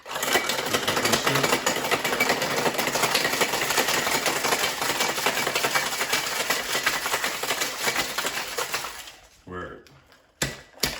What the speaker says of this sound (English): You hear that ice breaking up in there.